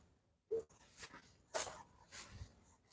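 A dog snorts, pants and whimpers in short scattered bursts, faint and close, in quiet outdoor surroundings at a storage property in 29 Palms, California.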